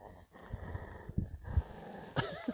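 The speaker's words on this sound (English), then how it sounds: "I love to hear him growl." A young livestock guardian puppy growls and snorts in short rough bursts close by while tugging at a tarp, with a few brief outdoor knocks and shuffles.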